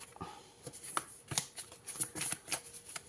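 A deck of tarot cards is shuffled by hand close by, with a quick run of crisp riffles and soft slaps repeating at an uneven rhythm, fairly quiet with no talking.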